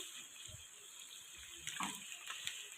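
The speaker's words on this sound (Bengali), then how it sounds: "আদা লঙ্কাটা কষিয়ে এখন একটু সামান্য জল দিয়ে দেবো।" A little water is poured into a pan where ginger and chili are frying, making a soft continuous splash and sizzle, quiet and close, with a few brief louder bursts.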